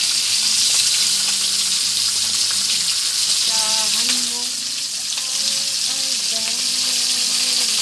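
Fish fries in oil with continuous loud, close sizzling and crackle, while faint tonal sounds and some background voices come and go underneath.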